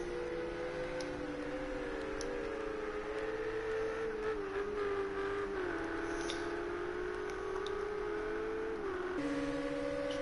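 Engine of a number 55 Ferrari race car in Project Cars 2, a steady high droning whine that shifts pitch with gear changes over about ten seconds, heard alone at moderate level.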